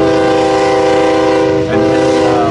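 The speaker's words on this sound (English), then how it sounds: "Empty coal drag heading westbound." A BNSF empty coal drag train rolls past at Ashland, Nebraska, coming off the Omaha line westbound. A loud, steady horn chord sounds close by over the continuous rumble of the passing cars, with no voices.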